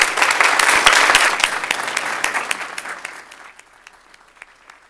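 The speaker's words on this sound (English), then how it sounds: "So I would just ask everyone if you could just give a round of applause" Audience at a school board meeting applauding, a dense burst of clapping that holds for a few seconds and then thins out and fades to scattered claps.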